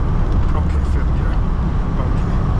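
A 2010 Lada 2107 with a 1.6 engine and manual gearbox cruises on a highway in fifth gear, giving a loud, steady broadband roar of engine, tyres and wind that holds constant throughout.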